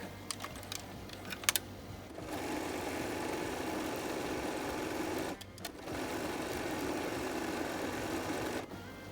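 A sewing machine stitches in two long, steady whirring runs separated by a brief pause, with a few clicks and taps before it starts, loud and close.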